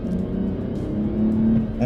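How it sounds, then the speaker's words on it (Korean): Engine of a Mercedes-Benz GLE 450 SUV while driving, a steady, heavy low rumble blended with a higher tone, running continuously and fairly loud from start to finish. "엔진 소리는 꽤나 묵직하게 나옵니다"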